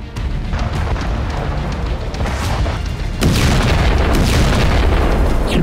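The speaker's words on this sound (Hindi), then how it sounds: "मॉस्को की हथियार फैक्ट्री में बहुत बड़ा धमाका" A huge explosion at a weapons factory in Moscow rumbles on loud and continuous, with a sudden surge of deep booming and crackling bursts partway through, and no talk over it.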